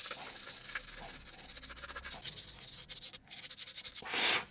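A curbed Tesla wheel rim hand-sanded with sandpaper, producing close, repeated rhythmic scratchy rubbing strokes of moderate loudness with a brief pause midway.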